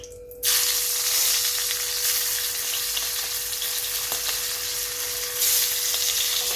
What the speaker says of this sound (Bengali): গ্যাস জ্বালিয়ে কড়া বসিয়ে তেল দিয়ে আমি একটু লবণ দিয়ে দিলাম মাছটাকে ভেজে নিচ্ছি